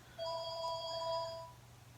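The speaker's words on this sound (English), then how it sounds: "And the work phone's ringing." An office work phone rings with an electronic ringtone, a steady high warbling tone that lasts about a second and a half over a quiet room hum, with no voices.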